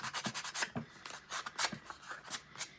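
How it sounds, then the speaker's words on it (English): Quiet, rhythmic scratchy rubbing of sandpaper against cardboard and paper edges, short strokes repeating steadily at close range. "I'm going to do a little bit of sanding on these edges here"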